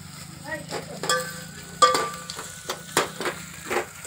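Curry leaves hit hot oil in a pan for masale bhat, making a busy, close sizzle and crackle, with a series of sharp clicks and stirring knocks scattered through it.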